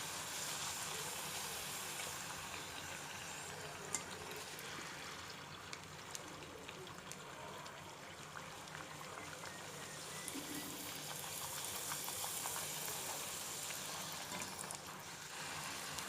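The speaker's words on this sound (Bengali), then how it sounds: "এটাকে এভাবে করে তেলের মধ্যে ডুবিয়ে ডুবিয়ে দিব।" Phuska (pani puri) puffs fry in hot oil with a faint, continuous bubbling hiss that stays even throughout and has no voices over it.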